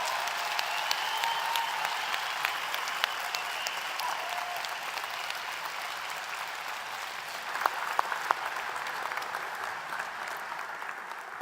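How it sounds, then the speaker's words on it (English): At a College of Nursing and Health Professions graduation ceremony, a large audience applauds associate's degree recipients and all graduates with a long, even wash of clapping that holds steady, with a few sharper claps standing out near the end. "Let us applaud the recipients of the associate's degrees and all graduates"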